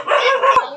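A single dog gives a short, sharp bark at a house, loud and close, with a brief yip-like tail and no talking.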